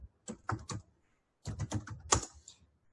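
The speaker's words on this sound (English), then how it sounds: "I'm typing it. Can I type here?" Someone types on a computer keyboard in two quick bursts of close, crisp clicking keystrokes separated by a short silent pause.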